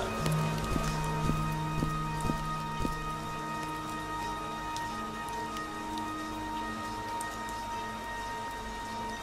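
Steady rainfall in a video game, a constant dense patter with a few faint tonal hums and soft thuds near the start, continuous and unbroken throughout.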